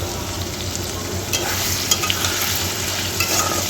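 Turmeric and whole cumin seeds fry in a pan with a steady hiss of hot oil, joined by a few light scrapes and crackles toward the end, close and moderately loud, with no talking.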